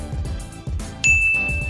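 A bright notification bell dings once, a clear ringing chime that sustains and decays over steady background music.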